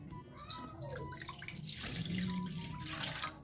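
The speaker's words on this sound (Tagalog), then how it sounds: "dito sa ating kawali, maglalagay lang tayo ng tubig" Water pours steadily into a pan (kawali) for liquid detergent soap-making, a continuous trickling, splashing flow heard close and alone.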